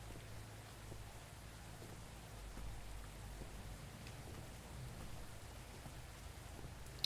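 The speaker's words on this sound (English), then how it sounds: "Is the rain coming through the roof?" Rain drumming on a roof in an indie horror game, a soft, even, continuous patter with a low rumble underneath, no voices.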